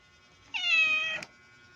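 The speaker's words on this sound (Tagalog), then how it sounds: "dalawa po ang pusa" A single cat meow, drawn out and close, rising then slightly falling, followed by a faint click, against near silence.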